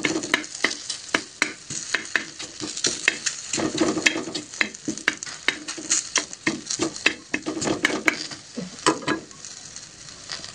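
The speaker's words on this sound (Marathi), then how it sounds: "गॅस कमी करून उलटण्याने थोडंसं टकटक करून घ्यायचं।" A spatula taps repeatedly on a bhakri flatbread cooking on a griddle over low gas. The sharp, close taps come in an uneven rhythm over a faint background sizzle, with no talking.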